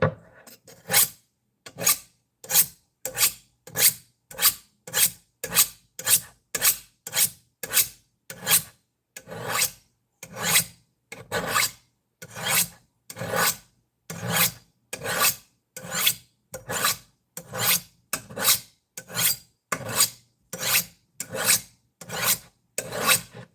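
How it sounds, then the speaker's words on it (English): A kitchen knife drawn over a sharpener in long, even rasping strokes, about two per second, repeated steadily for over twenty seconds, loud and close with no voices. "So let's sharpen the knife real quick."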